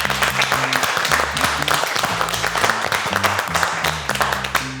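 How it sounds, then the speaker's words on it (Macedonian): Applause for a guest chef, a master of burek pastry, on a cooking competition show, with sustained clapping from a studio crowd running steadily throughout over a low musical bed. "Ајде еден аплауз за Ѓорѓи Петрев"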